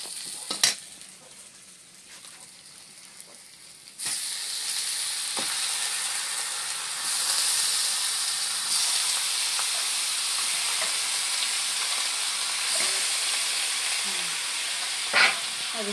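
Chicken fries with onions in a kadhai: a quieter stretch with a few knocks gives way to a loud, steady hiss and sizzle, broken by occasional scraping clicks from stirring, no talk.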